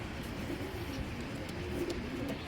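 Pakistani Rampuri pigeons coo softly in a low, steady murmur, close by, with no talking over it.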